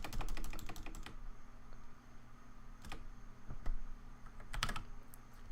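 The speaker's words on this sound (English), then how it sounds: "That's me typing" Typing on a computer keyboard, with bursts of quick, close clicking keystrokes separated by short pauses.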